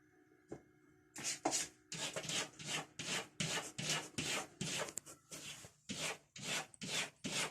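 A cat scratches at a wall indoors, repeated rhythmic rasping strokes, close and fairly loud, about a dozen scrapes in quick succession after a brief pause.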